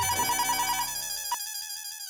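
A telephone rings with a repeated electronic tone in a rapid pulsing pattern, fairly loud, then cuts off abruptly partway through, leaving a sustained residual tone.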